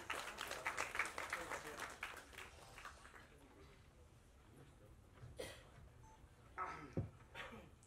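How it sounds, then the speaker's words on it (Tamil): A Tamil movie pre-release event crowd claps for a few seconds, the applause fading as a voice begins talking, with faint scattered sounds after. "ஒரு பலத்த கைத்தட்டல்."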